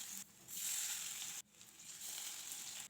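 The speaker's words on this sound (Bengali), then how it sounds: "বড়াগুলো আমি সব একে একে দিয়ে এবার ভাজা করে নেব।" Lote fish fritters fry in hot oil in a wok, giving a steady close hiss of sizzling that briefly cuts out and then resumes, with no talking.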